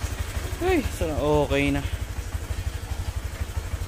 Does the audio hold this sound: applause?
no